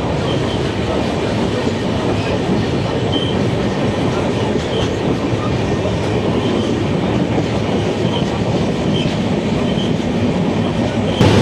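Tamralipta Express on the Howrah to Digha line, running about thirty minutes late, rolls on with a steady loud rumble and continuous wheel clatter throughout, heard from on board with no talking.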